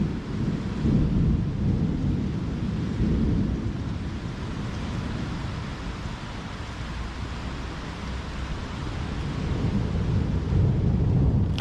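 Heavy thunder rumbles from nearby lightning strikes during a storm, a deep sustained roll under steady rain that swells at the start and again near the end.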